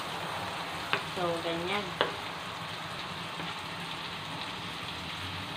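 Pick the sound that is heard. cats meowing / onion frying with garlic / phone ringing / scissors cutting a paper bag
onion frying with garlic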